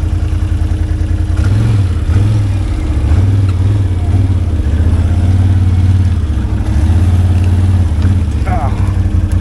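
A Can-Am Outlander ATV engine drones loud and close in low-gear four-wheel drive, pitch lifting and dropping in short surges as it crawls through a rut on a trail ride.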